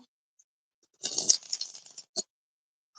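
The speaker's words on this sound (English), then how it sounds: "So I'm shuffling the cards" A deck of tarot cards riffles briefly in the hands, a soft close papery flutter lasting about a second followed by one short snap, faint and otherwise quiet.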